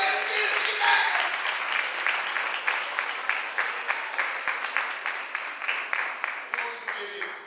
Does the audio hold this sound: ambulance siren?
no